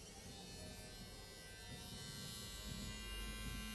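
A two-week-old JRL Diamante Lamborghini-edition electric hair clipper running close by, a continuous buzzing hum that grows slightly louder partway through, with no talking.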